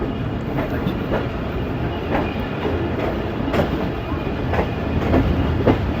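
The Tezgam 8 Down passenger train runs along the rails near Gujar Khan, giving a steady loud rumble with repeated rhythmic clickety-clack wheel beats throughout, heard up close from on board.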